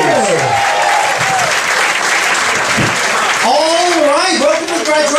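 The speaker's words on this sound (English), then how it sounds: "Give a nice big round of applause to Dr." A stand-up comedy crowd gives loud, sustained applause for comedian and host Dr. Peter Bales at a Stand-Up University graduation, steady and close throughout, with a voice talking over the clapping near the start and again near the end.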